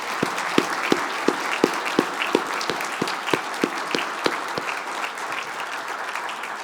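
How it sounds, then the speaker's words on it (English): A banquet audience at a Rotary club's 100th anniversary dinner in an event center breaks into sustained applause, a dense wash of many hands with a few sharper, louder claps standing out near the front throughout. "How about a round of applause for these wonderful women?"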